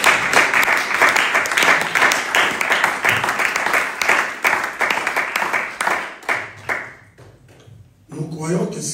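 A church congregation breaks into loud, dense applause and cheering that keeps going for several seconds, thins out, and then gives way to a voice.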